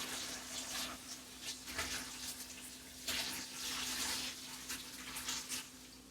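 Cooking juices are poured from a pan into a strainer, making a soft, steady watery gush and trickle with faint splashes, fairly quiet throughout.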